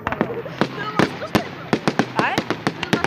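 Fireworks burst repeatedly at a salute display, sharp close cracks and pops in an irregular rapid series, with people talking in between the bangs.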